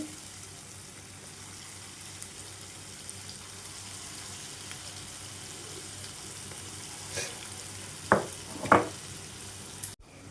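Chitti punugulu, small fritters of leftover idli batter, fry in oil in a kadai with a soft, steady sizzle, as a few brief louder splashes mark batter dropped into the oil near the end.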